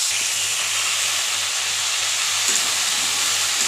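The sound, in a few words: jute leaves stir-frying in a pan with potato and shrimp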